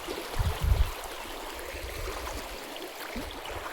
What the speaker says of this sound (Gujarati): પાણી જાય છે નેરામાં મસ્ત